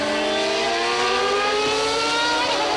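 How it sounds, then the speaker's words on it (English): Formula 1 cars at the 1994 San Marino Grand Prix at Imola back off on the straight, a steady loud high-pitched engine whine with gradually falling pitch, continuous and without talk. "And actually, John, we hear cars backing off on the straight now."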